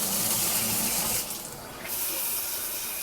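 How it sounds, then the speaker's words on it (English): A hotel shower massage head runs in a bathroom at a Hampton Inn in Baton Rouge, a steady, loud hiss of spraying water that briefly softens midway and then resumes. "we have an original shower massage"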